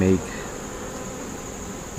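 Honey bees buzzing around a beehive that is showing signs of disease, a steady faint insect hum throughout with a brief louder burst at the very start.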